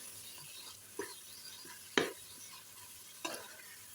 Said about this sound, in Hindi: अब कीमा डाल के हमने 5 से 6 मिनट तक अच्छी तरह से भूनना है।